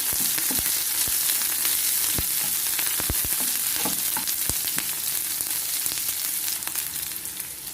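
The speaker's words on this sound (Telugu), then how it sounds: "దోరగా వేయించుకోవాలి" Onions, cumin and curry leaves fry steadily in a pan for ridge gourd curry, a continuous close, loud sizzle punctuated by sharp crackles and pops throughout, with no voices.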